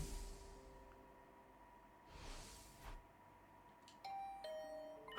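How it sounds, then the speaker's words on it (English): Doorbell chime in the video game The Hundred Line -Last Defense Academy-, a bright electronic ding-dong ringing out twice over a quiet ambient game background, clear and moderately loud with no talking. "Is that my doorbell?"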